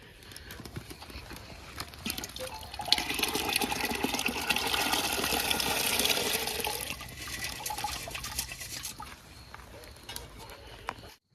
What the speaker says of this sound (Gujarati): હવે આપણે જે સવારે તુવેરો પલાળી હતી એ હવે આપણે તપેલામાં નાખી દઈશું